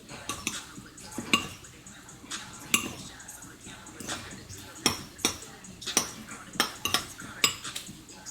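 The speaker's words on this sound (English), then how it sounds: "Let's mix into the green onions." Crispy rice mixture is stirred with green onions in a bowl, giving repeated close clinks and scrapes of a utensil against the dish in an uneven rhythm, with faint background noise and no talk.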